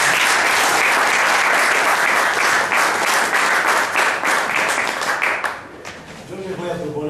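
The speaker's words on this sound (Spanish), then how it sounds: "le damos un aplauso, bienvenida a Carlos" An audience claps loudly in welcome for a speaker at a political talk in Córdoba, dense sustained applause that thins out and fades near the end as a voice begins.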